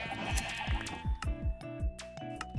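Sheep in the Minecraft video game, with several quick, repeated bleats and clicks over a steady background tone.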